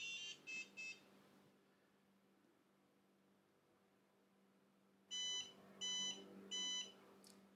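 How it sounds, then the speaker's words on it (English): A Toocaa L2 laser engraver's power-on self-test beeps in two groups: two short beeps at the start, then after a quiet stretch, three evenly spaced loud beeps signalling no USB recognized, with a faint chirp at the end. "it's going to give us 3 beeps"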